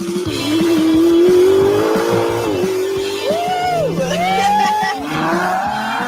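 A Ferrari pulls away at speed on a runway, its engine note climbing through the gears with a brief tire squeal and shifting pitch, loud and sustained for several seconds.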